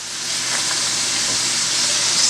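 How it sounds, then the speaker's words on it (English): Peas added to a hot chicken stir-fry pan, giving a loud, continuous hissing sizzle that swells slightly and holds steady, close up and alone. "I'm also going to add my peas to that."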